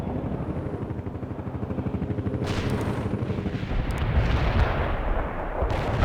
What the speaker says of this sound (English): We can deploy and lay down artillery strike on the way.